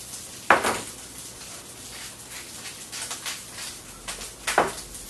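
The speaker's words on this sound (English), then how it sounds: "And we'll stir it up." A utensil stirs corn with garlic, salt and pepper in a pan, two sharp metallic clinks against the pan standing out over a faint, steady cooking sizzle.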